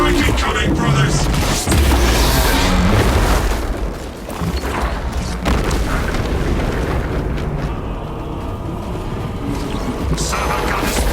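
A Gunstrike explosion in Warhammer 40000: Space Marine 2 lands as a heavy, rumbling boom amid dense battle noise, with mechanical clatter and voices talking over the din.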